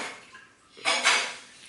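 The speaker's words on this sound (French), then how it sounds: "Une conclusion ne serait pas une conclusion sans un petit bruit de vaisselle." Dishes, pots and cutlery clatter during washing up, with a quiet stretch followed by a louder burst of clinking and scraping in the second half, close by and without talk.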